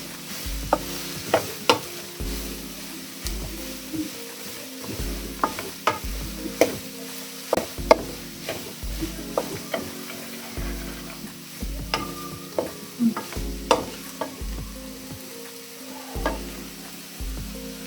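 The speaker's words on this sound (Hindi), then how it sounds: "थोड़े से कैरेट भी हम इसमें ऐड करते हैं। अभी हम इसको मिक्स करते हैं।" Carrots and mixed vegetables for a samosa filling fry in a pan, a soft sizzle running under repeated clacking stirs of a spoon that come in an uneven rhythm.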